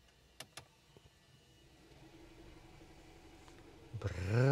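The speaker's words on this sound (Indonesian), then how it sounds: "Coba dengerin nih, saya nyalain mesin." A 2022 Mercedes-Benz C 300 AMG Line mild hybrid starts up: a few quiet clicks, then a smooth, rising whir as the engine comes to life, growing loud and close at the end.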